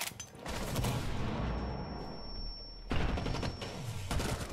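A grenade blasts during a first-person shooter match, a dense, loud burst of explosive noise mixed with crackling gunfire that drops briefly and then surges back with a sharp new impact.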